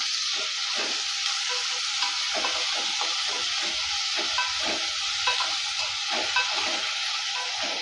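Onions and tomatoes sauté with salt in a pan, giving a steady close sizzle and hiss with faint scraping from stirring, no voices.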